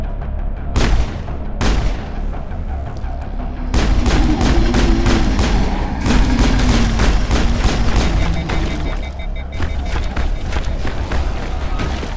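Gunfire in the video game Mass Effect, with several sharp shots and bursts ringing out over a dense, rumbling combat background, loud and close throughout.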